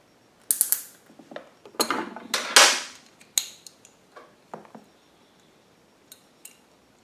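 Hose clamp being tightened on an Onan P2500i generator's extended run time fuel kit: a scattered series of close metallic clicks, ratcheting ticks and scrapes, louder in a cluster near the middle and tapering to sparse faint taps.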